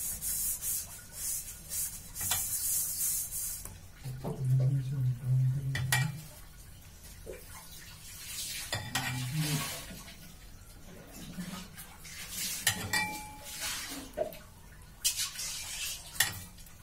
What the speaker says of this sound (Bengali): আমরা এরকম চামচে করে পাউরুটির উপরে চিনির শিরাগুলো দিয়ে দেব।